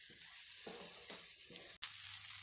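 Mashed potato masala is stirred in a frying pan, a quiet, steady sizzle broken by a few soft scraping strokes, with no voices.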